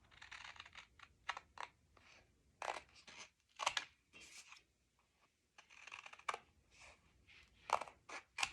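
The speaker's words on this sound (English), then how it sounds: "cut our corners off" Scissors snip the corners off a paper pocket in a series of short, crisp cuts, some in quick pairs, close and fairly quiet, with soft paper handling between them.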